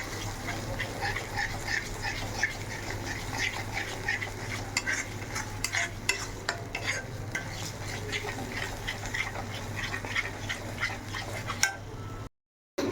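Spice paste with a little sugar fries in a pan with constant stirring, a soft continuous sizzle under frequent utensil scrapes and clinks, moderately close, briefly cutting out near the end.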